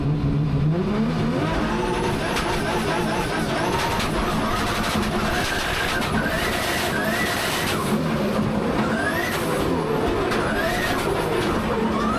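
Drift cars, including a Nissan S15, revving hard on a track at a French drift championship final, engines screaming with rising and falling rev sweeps from two cars launching together, loud and continuous with no talk.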